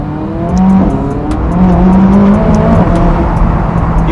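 A McLaren sports car drives and accelerates, its engine note loud, close and steadily rising with a high rasping edge and regular ticking transients, with no speech over it.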